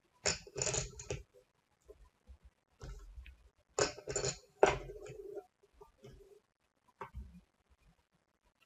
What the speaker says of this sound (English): rolling poker chips